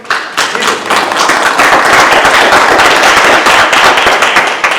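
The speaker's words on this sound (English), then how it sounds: "You should all give yourselves a hand of applause just for coming." An audience at a community meeting in a theater claps loudly and densely for about five seconds, the sharp, close hand claps blending into a steady roar.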